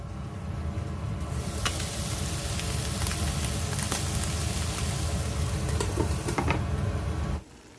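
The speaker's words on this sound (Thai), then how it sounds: "ย่างซาบะค่ะ ย่างในกระทะ เปิดไฟเบา ๆ แล้วก็ปิดฝา จะได้สุกทั่วถึง" Saba mackerel sizzles steadily in a covered frying pan over low heat, a constant crackling fry with scattered sharp pops, close and even throughout before cutting off abruptly near the end.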